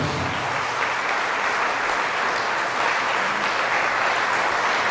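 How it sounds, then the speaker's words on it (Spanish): Loud, sustained applause from a congregation during a Catholic church service, a thick, continuous roar of clapping hands that holds steady throughout, with no voice on top. "Fuertes aplausos."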